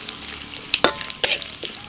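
Two dried red chilies, bay leaf, nigella seeds, radhuni and cumin hit hot oil for tempering, producing a short burst of close crackling sizzle with a few sharp spits.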